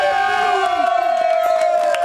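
A group at an evening gathering cheers and whoops for someone arriving late, loud sustained shouting with one held vocal tone on top, and scattered claps and thumps underneath.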